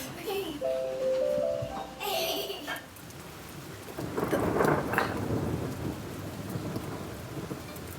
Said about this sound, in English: The lightning storm is right above us. You can tell because the flash happens and the thunder happens right after.